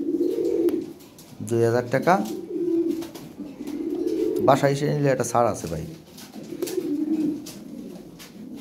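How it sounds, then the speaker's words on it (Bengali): A pair of farm-bred running pigeons coo in two clear rolling bursts, close by, with someone talking over and between the calls. "এখানে এক জোড়া কবুতর আছে রানিং পেয়ার, হ্যাঁ খামারের কবুতর"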